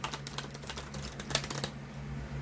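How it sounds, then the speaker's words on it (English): Deck of tarot cards being shuffled by hand, a quick run of crisp riffling clicks for about a second and a half, close and fairly quiet, then fading to room hush. "These cards are so hard to shuffle"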